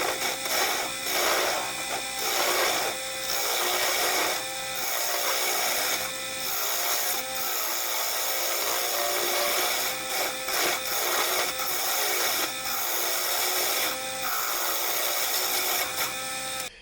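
Woodturning tool cutting into an ash bowl on a lathe, a steady loud broadband scraping and hissing with repeated rhythmic bursts as the tool digs in, continuous and close.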